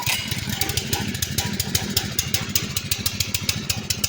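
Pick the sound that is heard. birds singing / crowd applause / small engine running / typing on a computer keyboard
small engine running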